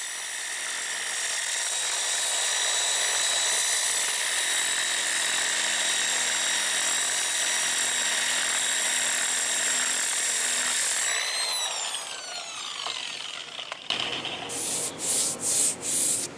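A dual-action sander with 80 grit paper grinds steadily against a curb-rashed car wheel rim, a loud continuous whirring rasp that winds down near the end, followed by a few short scuffing bursts.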